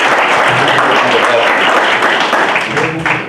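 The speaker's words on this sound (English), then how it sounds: "I would love for y'all to give her a round of applause" Loud, dense applause from an audience honoring a woman's years of work, steady wash of clapping throughout with a slight fade near the end.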